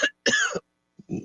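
Coughing and throat clearing from someone with a cold and flu symptoms such as sore throat and stuffy head, in two harsh bursts followed by a quieter rasping cough, close and alone.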